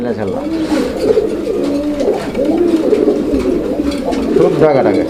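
Danish magpie pigeons cooing in repeated low, rolling calls, close and steady throughout, with overlapping birds and faint background murmur.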